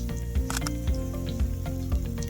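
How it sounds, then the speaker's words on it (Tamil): Chopped ginger, garlic and three ripe green chillies fry in oil in a pan for a Salem hotel-style chicken starter, a loud continuous sizzle close by with a few soft stirring thumps. "இப்போது இதை லைட்டாக ஃப்ரை பண்ணிக்கலாம்"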